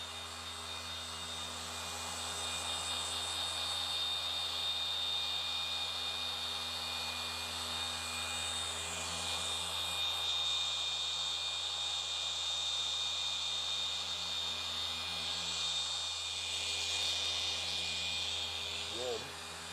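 Polishing machine running at speed setting 6 on car glass with firm pressure, a steady close whirring drone with a high whine, continuous for the whole stretch with a slight change as pressure shifts.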